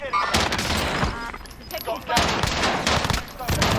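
Burst-fire Tec-9 shooting in Call of Duty Warzone, loud close bursts of rapid shots with short pauses between them, mixed with other game noise.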